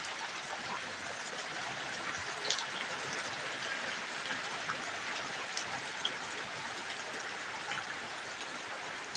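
Heavy rain pours down in a steady, dense hiss during a stormy, dark day, an even wash of sound with a few louder drops and no voices.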